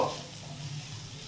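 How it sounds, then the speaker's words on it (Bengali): Chopped onions frying and being stirred in a pan for a mashed yardlong bean dish, a steady low sizzle with soft scraping, close and fairly quiet, no talk. "এই পেঁয়াজ কুচিটা দিয়েও আমি একটু ভালো করে ভেজে নেব"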